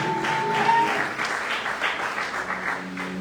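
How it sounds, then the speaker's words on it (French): A church congregation applauds and cheers for Jesus, steady close clapping with raised voices sustained throughout. "Est-ce qu'on peut acclamer très fort pour Jésus?"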